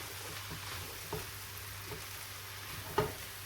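Frying rice with paneer and mushroom is stirred in a hot pan, a soft steady sizzle with a few scraping knocks of the utensil, one sharper clack near the end, no voices.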